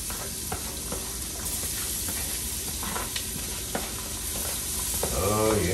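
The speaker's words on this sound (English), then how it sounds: "So it says to add the onions, peppers, and celery and cook, stirring until the onions soften." Onions and peppers sizzle steadily in a pot of Cajun gumbo base with celery, broken by occasional scrapes and knocks of stirring, and a brighter clink near the end.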